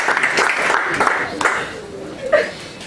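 Audience applause in a hall after a lecture by a bar association dean, a steady wash of clapping with a few louder bursts, a voice briefly audible over it.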